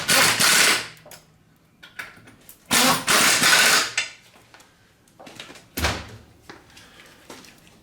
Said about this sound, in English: Once I've got it started by hand, I'll go ahead and tighten those down.